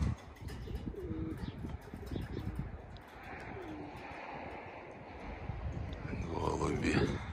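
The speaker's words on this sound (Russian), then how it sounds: "Голуби." Pigeons, both young and older birds of a flock, give a few soft cooing calls amid a bed of outdoor noise, while a person talks nearby.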